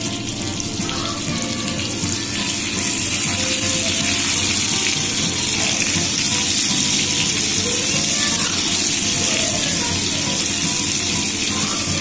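Pieces of fish, sardines among them, fry in a pan after being turned over, giving a steady, dense sizzle that carries on unbroken for the whole stretch, close and moderately loud, with no talking.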